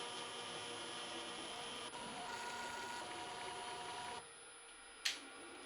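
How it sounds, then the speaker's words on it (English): A spindle servo motor on a home-built CNC metal lathe runs with a steady whirring hum and faint tonal whine. It stops partway, and a short sharp click or clack follows. "even the spindle servo has come to life."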